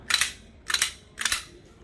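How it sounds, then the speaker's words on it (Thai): A pistol fires as its slide closes: three sharp, crisp bangs spaced about half a second apart, each snapping loudly and then dying away quickly. "เฉลยคลิปที่ปืนลั่นไปเมื่อกี้นะครับ"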